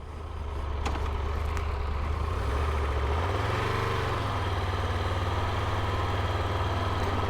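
A 2025 Triumph Tiger Rally Explorer motorcycle engine runs steadily, a close, constant low drone with a brief rise and dip in pitch as the revs shift, then settling into a smooth hum.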